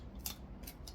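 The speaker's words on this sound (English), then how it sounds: "some of these stems are too long, so I'm going to cut those" Scissors cutting flower stems for small bouquets, with three quick crisp snips spaced evenly in under a second, close but quiet over a soft low background.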